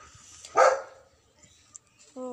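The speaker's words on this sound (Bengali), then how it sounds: "পাশের বাড়ির কুকুর আছে তো ওইটাই আওয়াজ হচ্ছে চিৎকার করছে" A neighbour's dog gives a single sharp bark from a short distance, followed by near silence and a few faint small sounds.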